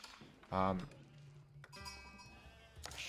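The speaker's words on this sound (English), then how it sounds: "You're going to see me running around for a few more sheep, and then sending those sheep to my town center." Sheep in Age of Empires IV let out a short, sharp bleat, followed by quieter game sounds and faint chiming clinks in the background.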